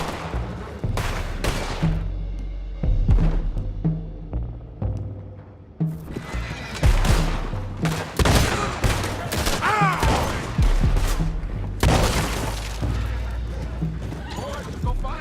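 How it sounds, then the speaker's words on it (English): In Red Dead Redemption, horses neigh and whinny amid hoofbeats and bursts of gunfire, with characters talking over the chaotic action in uneven, loud surges. "go find out about those horses down below"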